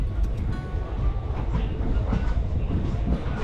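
A train pulls away from Lakkidi railway station on the Shornur–Coimbatore line, its steady rumble and rhythmic clickety-clack of wheels on rails filling the clip at close range without pause.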